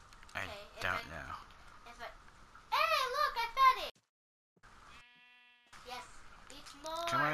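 Blocky sheep in the Minecraft survival game give a few wavering bleats in the middle, with a child and other players talking before and after.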